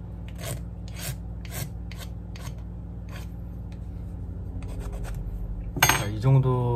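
Maple wood being shaped into a small fish carving with a hand tool, rasping strokes in irregular bursts and pauses, close up, ending with a brief louder scrape or knock.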